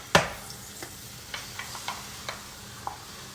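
A sourdough starter pancake flips in a frying pan with one sharp slap, then a gentle sizzle carries a few light spatula taps and ticks, close and fairly quiet with no voices.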